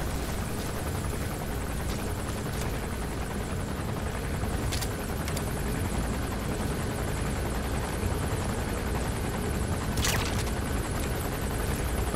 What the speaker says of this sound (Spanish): ¿Dónde está el helicóptero?